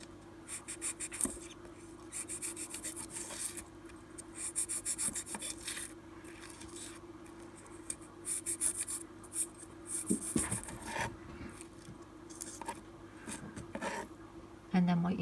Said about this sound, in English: you take your 240 grit sandpaper and just sand it all so that you've got a little ball